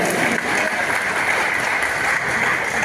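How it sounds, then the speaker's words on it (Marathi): An audience at a ceremony claps loudly and steadily, producing a dense, continuous wash of applause throughout. "त्यांच्यासाठी जोरदार टाळ्या झाल्या पाहिजेत"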